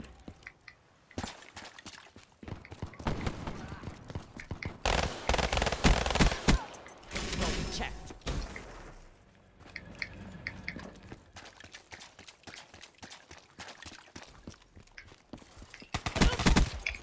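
Gunfire in Call of Duty: Black Ops III gun game mode, rapid automatic bursts in several loud clusters separated by quieter stretches, with sharp single shots in between.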